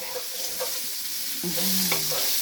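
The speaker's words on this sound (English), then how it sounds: "I'm going to give that bacon and that another stir" Bacon fries in a hot pan while a utensil stirs it, a loud, close, continuous sizzle broken by a few scraping strokes.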